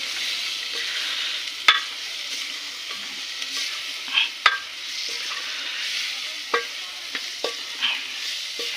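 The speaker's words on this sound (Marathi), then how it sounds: "फिरवा त्याला. टमाटे मस्तपैकी त्याच्यामध्ये विरघळू द्यायचे." Tomatoes frying in a pan for goat paya biryani, with a steady bright sizzle running throughout and intermittent scraping taps as the mixture is stirred, close and fairly loud.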